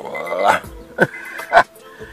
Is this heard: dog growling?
yes